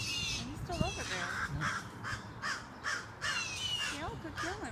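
Ravens caw repeatedly in harsh bursts while mobbing an owl among trees outdoors, the calls rising and falling in a steady series, with people talking over them.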